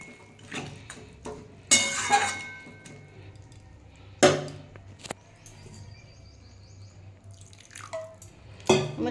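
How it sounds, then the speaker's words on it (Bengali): Water is poured into a pot of cauliflower stem curry, a few short splashing bursts with drips and faint clinks of the pot between them, and a bird chirping faintly in the background. "আমি এতে জল দিয়ে দেবো সেদ্ধ হওয়ার জন্য"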